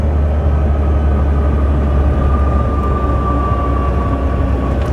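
A 2007 Volvo 880 truck with an 18-speed Eaton Fuller Ultrashift automated transmission, hauling an RV, drones steadily at road speed as it gears down on its own, with a continuous low engine rumble and a faint whine throughout.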